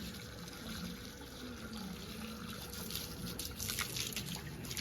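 Water runs steadily from a tap or hose while plants are being watered outdoors, a continuous close hiss and splash with no speech.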